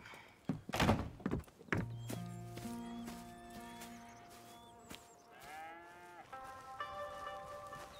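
Cattle mooing on a farm in Red Dead Redemption 2, several long, low drawn-out moos overlapping after a few thumps at the start, moderately near, with a horse nickering and faint game ambience, no talking.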